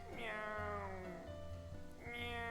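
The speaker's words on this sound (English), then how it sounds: "that was the most fake ass cat meow I've ever heard" Two drawn-out synthetic cat meows in the game WILL: A Wonderful World, each rising then sliding down in pitch, close and clear over a low background hum.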